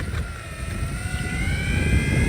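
Electric skateboard motor at full throttle, a steady whirring drone with rising tonal whine, fairly close and continuous, no talking.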